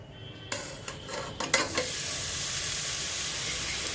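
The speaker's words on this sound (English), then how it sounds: "now I will be adding to it 500 grams of minced meat, that is keema" Minced meat (keema), 500 grams of washed mince, hits a hot pan and breaks into a steady bright sizzle, with a few scraping stirs early on before the hiss settles into a constant close frying sound.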